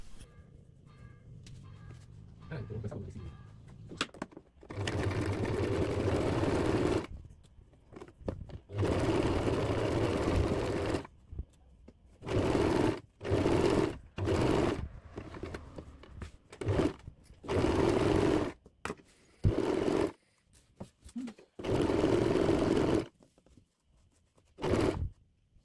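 Domestic sewing machine running in repeated bursts of steady stitching, separated by short pauses, as it sews a curved 1 cm seam around a garment pocket bag, close and fairly loud with no talk.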